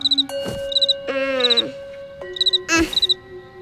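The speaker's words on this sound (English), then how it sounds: "It's impossible to fall asleep with that cricket." A cartoon cricket chirps in repeated bright, high trills that come in short bursts with pauses between them, loud and close, with no talking.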